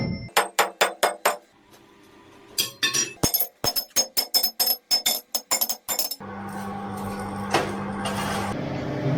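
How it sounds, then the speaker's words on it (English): A hand hammer upsets the end of metal stock at a forge with rapid bright ringing blows in quick bursts and short pauses, followed by a steady lower hum with a single sharp strike. "So in the first step, Robin is upsetting the end to gain more material"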